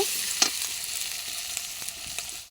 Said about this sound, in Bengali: টমেটো কুচিটা ভালো করে নাড়াতে থাকবো